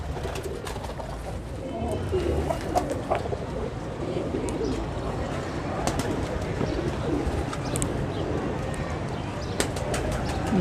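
Soft, low pigeon cooing repeats over a busy outdoor background, with occasional sharp clicks and faint chirps nearby.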